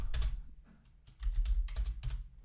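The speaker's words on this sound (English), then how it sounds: "right there you can actually type in a question" Quick bursts of typing on a computer keyboard, close and moderately loud, as a question is entered in two short runs of keystrokes separated by a brief pause.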